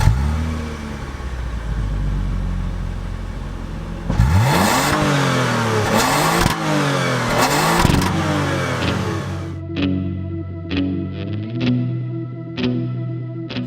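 A 2018 Toyota Camry V6 engine revs hard past 7,000 RPM, loud rising and falling sweeps in repeated pulls, then settles into lower revs with sharp shift clicks.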